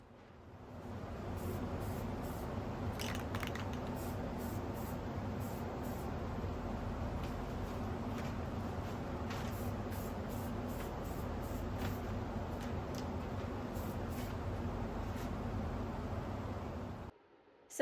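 Long continuous hiss of an aerosol can spraying filler primer onto foam on a turntable, steady and fairly quiet, with faint clicks and rustles, ending abruptly.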